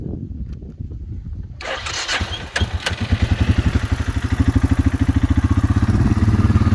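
A 2009 Suzuki Quadrunner 400 4x4 ATV with a rebuilt top end and an extra muffler starts up nearby, then settles into a steady, rhythmic, chugging idle that gradually grows louder.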